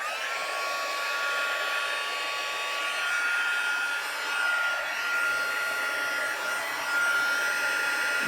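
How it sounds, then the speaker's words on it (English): A heat gun used for melting embossing powder in card stamping blows with a steady, loud whooshing roar of hot air, holding constant throughout with slight swells in intensity and no talking. "Then you take your heat gun and you let it heat up for a second."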